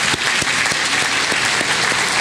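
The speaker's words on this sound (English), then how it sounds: "Give her a real round of applause." Audience at a symphony concert claps steadily: dense, loud, continuous applause from a full hall, with no voices over it.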